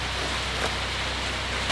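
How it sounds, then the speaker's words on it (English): Steady rain falls on a spring homestead, a soft, even wash of noise with no voices and a faint rise in patter at the very end. "Lucky may have started, but so did the rain."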